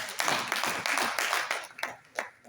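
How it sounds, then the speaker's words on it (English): Audience clapping at a business conference panel, a short burst of applause with repeated sharp claps that fades toward the end. "Applause for New Life."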